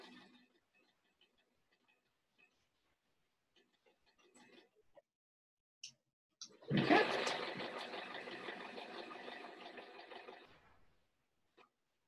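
A sewing machine runs a burst of reverse stitching along the end of a drawstring bag, a close, steady mechanical whir of about four seconds after a few quiet clicks and handling sounds.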